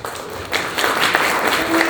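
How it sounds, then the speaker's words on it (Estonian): Audience applause at a 75th anniversary concert event, a dense wash of clapping that swells after a brief start and holds steady for two seconds. "Ja aplaus võiks natukene kopsakam olla"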